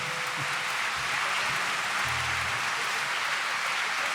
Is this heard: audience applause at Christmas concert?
yes